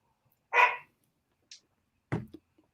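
A dog barks from another room, a few separate barks and yips spread over a few seconds with silence between them, moderately loud but not close.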